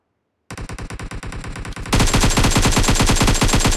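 Automatic weapon gunfire in the mobile game PUBG Mobile, a rapid loud burst of evenly spaced shots that starts after a short silence and grows heavier and denser partway through, continuing without pause.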